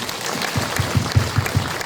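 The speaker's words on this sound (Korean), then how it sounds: "여러분들 박수 한번 보내주십시오." An audience at a political candidate's book concert claps, and the applause comes in fairly regular, pulsing bursts over a steady crowd background.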